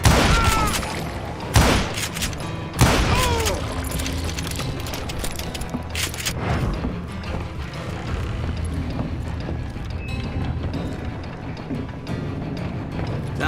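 Gunfire rings out in the Western shooter Call of Juarez Gunslinger: a few loud, sharp shots crack early on, followed by sustained action noise with rumbling booms and a galloping clatter in the background.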